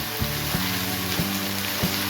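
Sliced okra frying in oil in a pan, a steady close hiss and sizzle with faint periodic clicks and taps, no talk.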